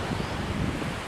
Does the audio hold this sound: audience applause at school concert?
no